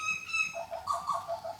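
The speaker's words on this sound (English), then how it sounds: "There's a bit of the bird life you can hear in the background." Birds call outside a house with a front garden, several clear chirps and whistled notes following each other in quick succession at moderate distance, with no talking.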